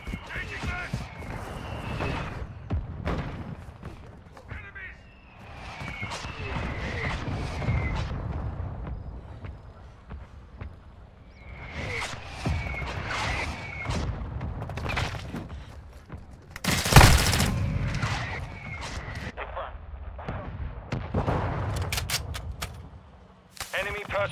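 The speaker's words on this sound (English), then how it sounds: "Hostile mortar strike near your position." Gunfire crackles through a Call of Duty Modern Warfare 2 multiplayer match, and a sharp, loud mortar blast bursts out near the middle, with voices talking over much of the action.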